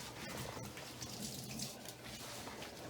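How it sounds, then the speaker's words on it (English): Water runs steadily from a tap while an English springer spaniel is rinsed in a bath, a soft continuous splashing hiss with no talking. "so I'll rinse that out and then Cole will be done his bath"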